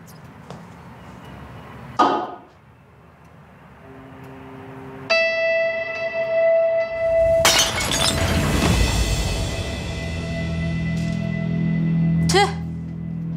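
A decorative porcelain figurine falls and shatters indoors, a sharp crash and spray of breaking pieces followed by lingering ringing tones, with people talking and music-like tones around it.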